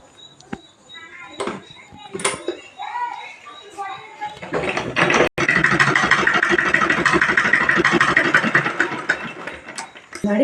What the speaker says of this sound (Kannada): ಇನ್ನೊಂದು ಸ್ಟಿಚ್ಚನ್ನು ಹಾಕ್ಕೊತೀನಿ